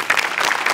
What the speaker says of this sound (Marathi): आज विशेष करून सेटिंग आणि म्युझिक डिपार्टमेंटसाठी टाळ्या वाजवल्या पाहिजेत